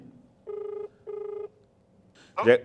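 Two evenly spaced electronic phone rings sound clearly on a live call, a short burst of noise following after a pause.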